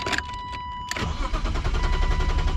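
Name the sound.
BMW E36 328iS engine cranking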